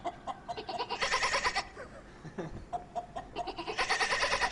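A human voice imitates a goat bleating in a rural setting, with two long wavering bleats separated by a short pause and faint talk in between.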